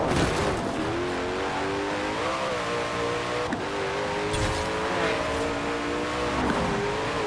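A high-performance sports car accelerates hard toward top speed, the engine droning loudly and steadily as its pitch climbs through gear changes, heard continuously from inside with no talking.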